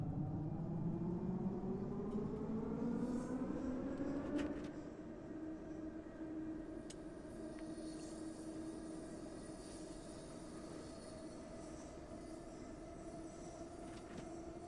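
Train running in a train simulator game, with a steady rumbling roll and tonal whine that climbs in pitch as it speeds up, then settles into a constant drone after about four seconds, alone with no talk.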